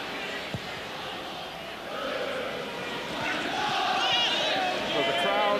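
A football crowd at Aston Villa's ground during a match against Manchester City murmurs and swells restlessly, rising to louder shouts near the end, with a commentator talking over it.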